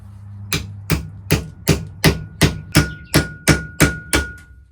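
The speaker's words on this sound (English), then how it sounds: "started to hammer on it" A hammer strikes a Schrade knife eleven times in a steady, even rhythm, each blow a sharp, ringing metallic clank, close up with no talking.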